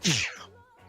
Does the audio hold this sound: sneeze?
yes